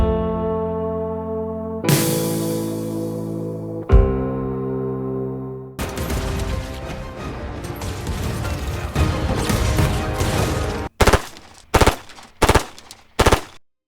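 Rapid automatic gunfire from a film shootout, loud sustained bursts of firing followed by several sharp separate shots near the end, with dramatic music tones at the start.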